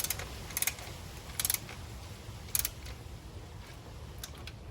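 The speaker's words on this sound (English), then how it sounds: "Alright, so we're going to get started here with our torque wrench." A torque wrench ratchets on valve cover bolts during valve cover seal work on a Toyota Tarago. Faint, short bursts of quick clicks recur at intervals against a quiet background.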